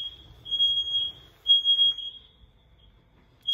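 Indoor smoke alarm going off with a steady high-pitched electronic tone in two loud bursts, the second fading into a quieter tail, with faint low room noise underneath.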